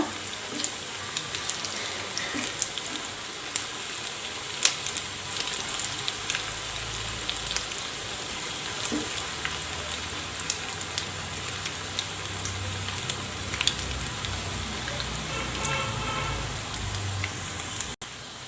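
Egg pakoda fries in oil over a low flame, a continuous bubbling sizzle with scattered crackles and pops, steady and close, without speech.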